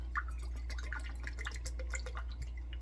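A pear drink is poured into kimchi seasoning of garlic and rice. It gives a close, soft trickle with small drips over a steady low hum, and no one speaks.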